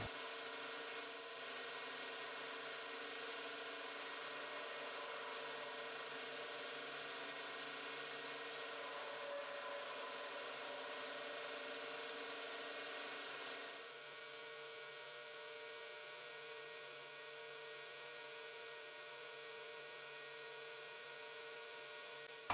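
A wood lathe spins steadily while a wooden mushroom-shaped bottle stopper cap is finished on top with the tailstock removed, giving a constant low motor hum with faint tool rubbing and a slight change partway through.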